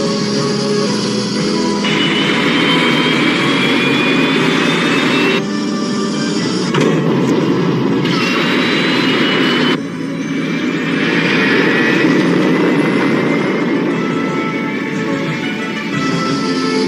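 A cartoon craft lifts off with a loud, sustained engine roar, broad and rushing with whistling tones that swell and shift in sections over about seventeen seconds.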